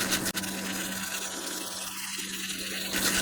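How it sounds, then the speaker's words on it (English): A brush scrubs isopropyl alcohol over a circuit board to clear flux during a Bose Panaray repair, giving a steady, close, fairly quiet bristly rasp heard alone. "Give this a good old scrub."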